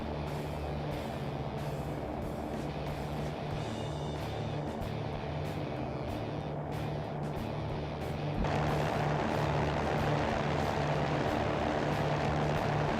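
A Cirrus SR20 single-engine propeller plane in the X-Plane 11 flight simulator drones steadily at close range, a constant engine hum that swells louder partway through and stays even, with no talk.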